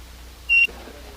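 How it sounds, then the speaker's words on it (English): A shop-door anti-theft scanner from 1968 gives a single short electronic beep as a miniature electronic device passes through it, clear against a quiet room. "a miniature electronic device triggers an alarm when it passes a scanner at the door"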